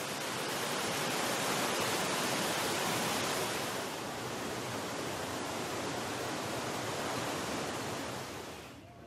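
Small waterfalls near Maison Eureka in Mauritius give a steady, broad rushing hiss, moderately faint and unbroken, easing slightly toward the end, with no voices present.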